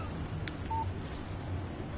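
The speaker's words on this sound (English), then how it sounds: "Text message from Barry." A short electronic text-message alert beep sounds from a phone in the Alan Wake video game, a single brief tone over a low ambient hum.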